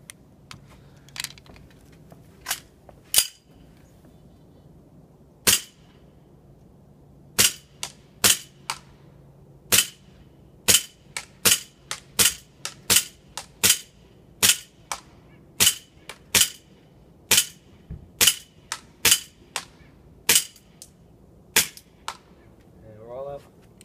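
KWC M1911 100th Anniversary airsoft pistol fired outdoors at a target roughly 100 feet away, a long series of sharp, loud single pops at a fairly steady pace with brief gaps between shots.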